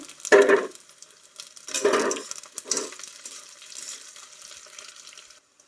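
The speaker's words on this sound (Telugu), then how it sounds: "ఇప్పుడు ఈ గుడ్లు కూడా ఇందులో వేసుకొని వేయించుకోవాలి" Boiled eggs are tossed into a pan of frying onions and green chilies. Three separate bursts of sizzling rise and fade, followed by a softer, lingering crackle of oil.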